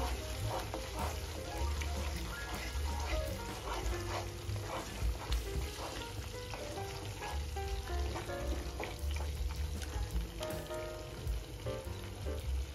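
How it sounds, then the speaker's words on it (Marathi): Paneer masala sizzles and crackles in a pan as it is sautéed and stirred, a continuous close frying hiss with scattered spoon scrapes and pops. "आता इथे मी अजून थोडंसं पाणी ऍड करणार आहे आणि छान मसाला 1 मिनिट परतून देणार आहे"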